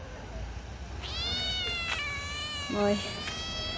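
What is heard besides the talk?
cat meowing on a road at night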